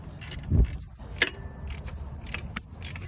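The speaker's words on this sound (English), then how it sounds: "I'm gonna start ratcheting" A ratchet tightens an alternator bracket bolt on a 2018-2025 Toyota Corolla LE: a few sparse, uneven clicks and metallic knocks, close by, with quiet pauses between them and no talk.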